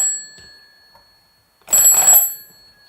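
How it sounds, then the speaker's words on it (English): A telephone rings once in a loud, bright burst of about half a second after a near-silent pause, standing alone with no talk over it. "he gets a phone call from the Royal Cave"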